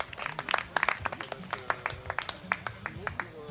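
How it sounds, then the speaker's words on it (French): Scattered clapping from spectators at a triathlon podium ceremony in Valbonnais, individual hand claps popping irregularly over a sparse crowd while a voice talks over them. "Merci d'applaudir Alexandra Millet"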